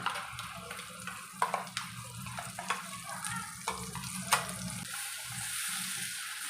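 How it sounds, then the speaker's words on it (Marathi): Ground masala paste for a cashew curry is stirred in hot oil over a low flame, giving a soft continuous sizzle broken by scattered clicks and scrapes of the spoon against the pan. "आता आपण जे हे वाटण करून घेतलं ते सगळं त्यामध्ये घालूया"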